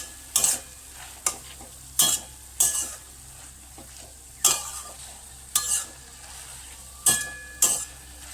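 Spinach and shrimp are stirred in a frying pan over a low sizzle, the spatula scraping the pan in sharp, regular strokes about once per second, close and distinct.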